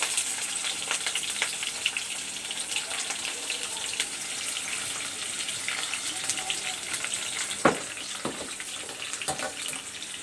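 Onions frying in a pan with bay leaf, a steady broad sizzle throughout with a few sharper clinks or stirring knocks near the end; no voices.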